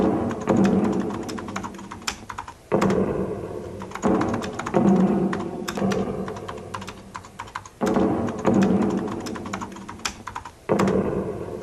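Rapid clattering keystrokes on a 1985 computer keyboard in bursts, with brief pauses and heavier thunks between runs, close and steady.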